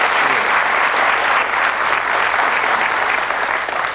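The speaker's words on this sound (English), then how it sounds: "Give him a nice warm round of applause." A television game show studio audience applauding warmly as a darts champion is introduced, loud, thick and continuous clapping throughout.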